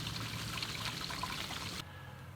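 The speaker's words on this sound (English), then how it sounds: "Drain out the tanks." Water trickles and pours from RV holding tanks as they drain, a faint continuous splashing flow that cuts off abruptly near the end, leaving low background hum.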